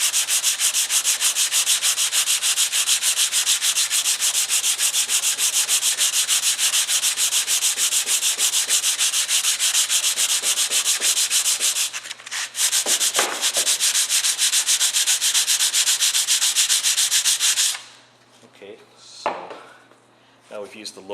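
Steady, loud sandpaper scraping over a scratched hardwax-oiled wood surface, done with low-grit paper, runs continuously for most of the time with a brief pause, then stops and leaves quieter handling noises.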